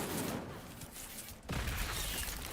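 Incendio fire spell cast in Hogwarts Legacy, a loud whooshing burst that swells up after a brief dip and roars on steadily, dense and explosive like a blast of flame.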